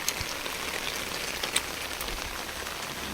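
Heavy rain pouring steadily onto surfaces outdoors, a dense continuous hiss with scattered louder drops, loud and close, no voices.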